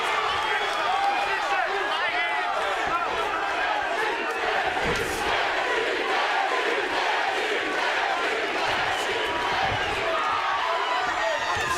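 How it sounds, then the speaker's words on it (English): Dense arena crowd roars and cheers steadily throughout a mixed martial arts bout featuring Justin Gaethje in the World Series of Fighting, a loud, continuous wall of voices with occasional sharper shouts and thuds. "And they're cheering for Gaethje, as you would imagine."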